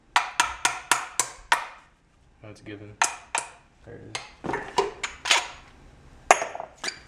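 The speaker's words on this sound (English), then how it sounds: "you just want to hammer this out" Sharp metallic hammer blows strike a stopper on a Koni Yellow suspension strut for a 2006-2011 Honda Civic Si: a quick run of six ringing hits, then scattered louder knocks, with brief talk in between.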